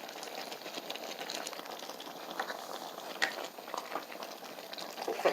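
A pot of Jamaican stewed peas with smoked pigtails bubbling steadily, a soft continuous burble of boiling liquid with small pops, fairly quiet and close, with no talk.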